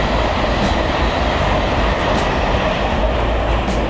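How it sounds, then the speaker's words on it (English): A high-speed train rushes through a station on a fast rail link with a loud, continuous roar and rumble that stays steady for the whole stretch, with no voices over it. "As you can see from the speed of the trains going through it now."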